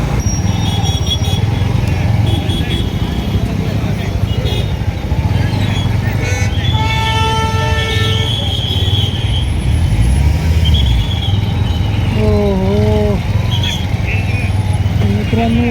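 A vehicle rolls slowly along an open road, its engine humming steadily and close by throughout, with other traffic and tonal sounds layered over it.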